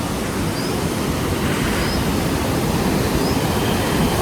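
A river in Old Manali rushes steadily beside a riverside path near a bridge, a dense, continuous wash of water with no talking.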